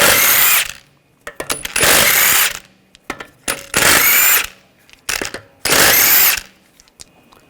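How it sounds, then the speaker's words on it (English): An impact power tool with a 17mm socket spinning lug bolts off the front wheel of a 2007-2013 BMW X5: three loud, close bursts of whirring rattle, separated by short clicks and handling noises. "use a 17mm socket, take the lug bolts out"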